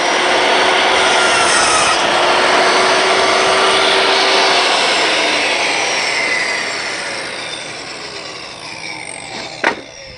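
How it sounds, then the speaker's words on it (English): A table saw spinning up and cutting through a wooden board gives a loud, continuous whining roar with a rough rasping edge, easing slightly as the cut finishes, with a short knock near the end. "You're going to turn the blade on."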